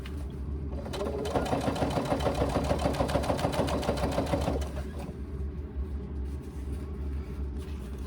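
A sewing machine stitches basting seams along the sides of a laptop bag with foam between the layers, a rapid, even needle chatter for several seconds before it stops and leaves a quiet low rumble.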